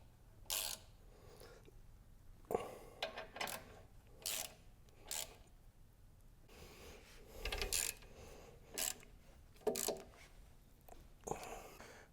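Ratchet clicking in short bursts as bolts are tightened on the foot peg brackets of a Husqvarna Norden 901 motorcycle during a guard install, the bursts separated by quiet pauses and close by.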